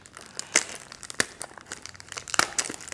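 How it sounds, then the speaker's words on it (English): Paper wrapping from a Chanel No. 5 Eau de Parfum purse spray box crinkles and tears in close, sharp bursts with short pauses, loudest near the middle and end, with no talking. "this paper sounds like the wrapping on one of her favorite snacks"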